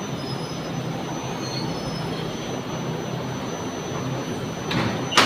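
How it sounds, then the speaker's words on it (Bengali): A train pulls into a railway station in Malaysia with a long, continuous metallic squeal from its wheels over a low rumble, rising in loudness near the end as it draws close. "অলরেডি ট্রেন চলে আসছে"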